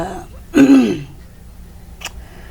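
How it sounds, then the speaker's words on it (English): A single close, rough throat-clearing cough bursts out, followed after a pause by a short, faint second clearing sound. "I'm really trying not to cough"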